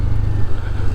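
A 2024 Honda Scoopy scooter engine hums steadily and close while riding, a loud, even low drone with no voices over it.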